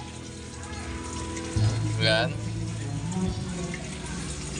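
Water pours and trickles into a goldfish tank during a water change, a steady splashing flow with a brief louder gush partway through, under a person talking.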